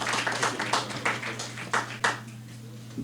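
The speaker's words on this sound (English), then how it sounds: "Could you give him a round of applause?" Scattered clapping from a small audience at an economics talk, a few loud distinct claps thinning out over three seconds above a steady low hum.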